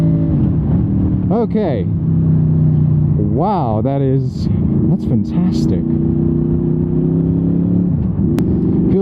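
A Honda VFR800 motorcycle engine revs up hard in repeated rising sweeps, with a sharp surge near mid-clip. It is close and loud, and a rider talks over it.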